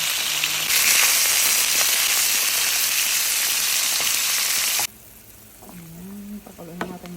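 Chicken pieces sizzle loudly in a hot pan for about five seconds with a steady dense crackle, then the frying drops to a faint hiss while a voice speaks over it.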